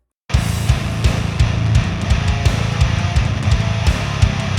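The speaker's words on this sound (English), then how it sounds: "Now hear it with the guitars and the drums." Heavy hardcore metal mix: saturated, distorted bass under thick downtuned guitars and pounding drums, loud and dense from start to finish, with sharp cymbal and snare hits punching through.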